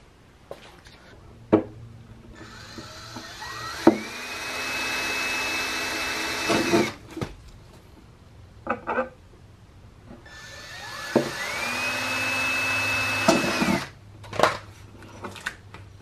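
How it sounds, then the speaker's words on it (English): A power drill whines up to speed and bores holes through sheet-metal car body panels in two long bursts, with clicks and knocks between them, close and loud. "right now we're just drilling some holes, plus pilot holes, into the mounting positions."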